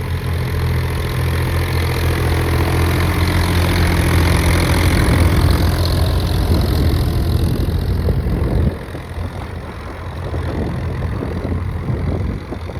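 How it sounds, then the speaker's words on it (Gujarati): An old farm tractor engine runs close by with a loud, steady low chug that drops to a quieter idle partway through, with no talking. "આપણું ટ્રેક્ટર છે આપણા કાકાનું ટ્રેક્ટર છે હજુ જૂનું હે પણ જુઓ કેવું હાલે"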